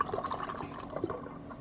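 Peach and pineapple juice is poured into a bottle of kombucha, giving a faint, close gurgling trickle with small liquid bloops over about a second and a half.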